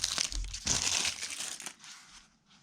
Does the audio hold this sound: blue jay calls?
no